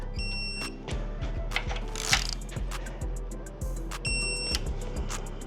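High electronic beeps from a torque wrench sound twice, at the start and again later, over rhythmic mechanical clicking and clatter while installing an engine in a 2023 BMW M 1000 RR motorcycle.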